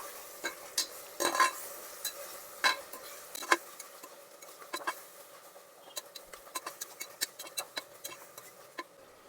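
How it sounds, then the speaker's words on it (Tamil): Tomatoes and onions sautéing with rock salt in a pan, heard as soft, steady sizzling broken by irregular sharp clicks and scrapes of a spoon against the pan, close and fairly quiet, with no talking. "இப்போ தக்காளி பழம் நல்லா வதங்கி வருது."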